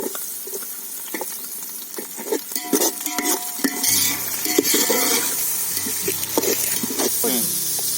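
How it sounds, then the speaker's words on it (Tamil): Green chillies go into ginger-garlic paste in a hot pan for sambhar rice cooked outdoors, with scraping stirs and clinks over a rising sizzle, loud and close. "பச்சை மிளகாவும் சேர்த்துக்கிறேன்."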